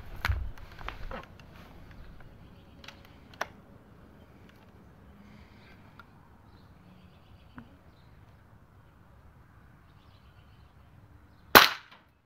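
A .22 caliber Avenger airgun fires an H&N Barracuda 21.14 grain pellet into a tomato, giving one sharp, loud crack near the end that stands alone after faint handling noises and quiet background.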